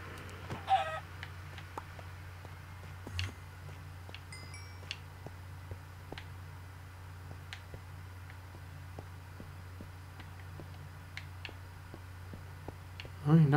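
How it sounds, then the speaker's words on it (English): A chicken in the video game Minecraft clucks faintly a few times over a low steady hum and soft clicking game sounds. "Why is there a chicken here?"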